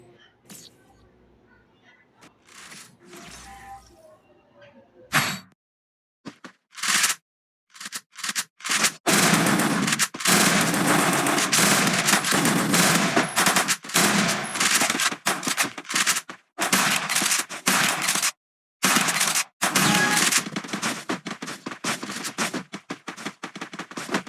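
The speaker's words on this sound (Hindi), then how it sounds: "मैंने क्रोनो डाल के उसके ऊपर गोलियाँ मारी" Gunfire in a ranked match of a competitive shooter video game: loud, rapid bursts of shots packed closely together, broken by brief pauses, after a quieter opening.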